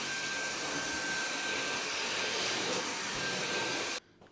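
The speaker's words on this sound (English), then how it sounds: "Quickly vacuum that." Vacuum cleaner running in a home kitchen, a loud continuous whining roar with a steady high tone, close by and alone, lasting about four seconds before it switches off abruptly.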